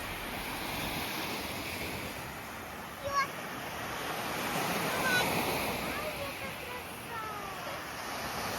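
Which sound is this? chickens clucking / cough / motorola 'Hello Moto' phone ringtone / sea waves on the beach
sea waves on the beach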